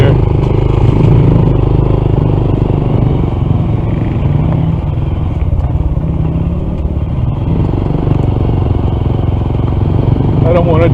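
Struggling engine of a Honda CT125 motorcycle on a mountain road, a steady loud rumble with clattering, uneven running throughout, with no voices over it.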